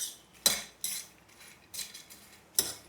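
Jowar puffs are stirred in a pan, with a spoon scraping and clinking against the metal in several distinct sharp strokes separated by quiet gaps.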